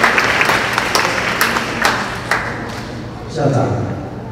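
A live audience claps at a parents' school gathering to welcome the association president, with sharp accents among the applause and a voice breaking in near the end.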